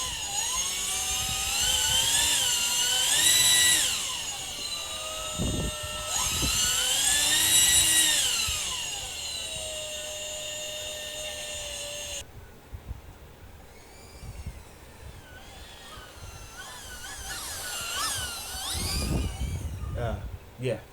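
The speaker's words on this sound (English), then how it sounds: "this is all EDF" An electric ducted fan on a four-wheel-drive RC car spools up to a loud, high-pitched jet-like whine in several long bursts that rise and fall, with a quieter gap between them.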